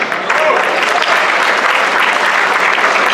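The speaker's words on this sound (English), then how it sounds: "I stand here to applaud and to commend this much-deserved award for our brother Laj Prasher." At a Dhanteras gala lifetime achievement award in 2024, a crowd breaks into loud, unbroken applause that holds steady and close throughout, with no voices over it.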